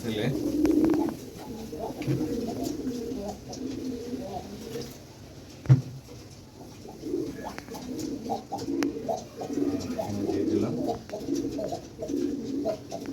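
Pigeons kept in a coop coo repeatedly in soft, low, rolling calls, close by and fairly steady. A person speaks briefly over them and there is a single sharp knock midway.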